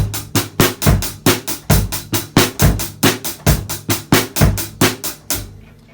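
A drum kit plays the beat of a song at full tempo: steady, evenly spaced kick, snare and cymbal hits, close and loud, that stop near the end and leave a short decay.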